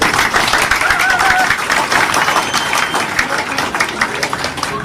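An audience applauds with dense, sustained clapping at close range, steady and loud throughout, with voices mixed in beneath it.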